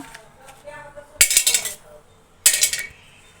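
Almonds drop into a pan on a stovetop with two bright, clattering bursts of small hard pieces hitting metal, close up over faint background.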